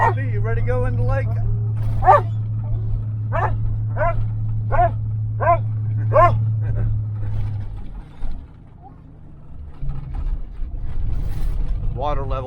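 An excited female puppy barks repeatedly in a car on the way to a lake, sharp yips in quick bursts over a steady engine drone, with a pause near the end before more barks.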